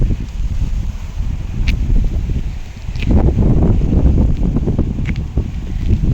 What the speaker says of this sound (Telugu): గాలి అయితే మంచిగా వస్తుంది